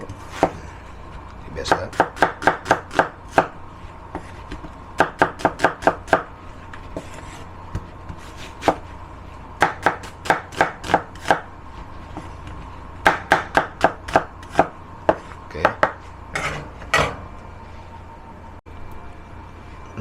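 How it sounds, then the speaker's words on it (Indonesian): Onion chopped with a knife on a board, bursts of quick sharp chops in a rapid steady rhythm separated by short pauses, close and crisp, with a brief spoken word. "ini belum dipotong jadi saya potong dulu"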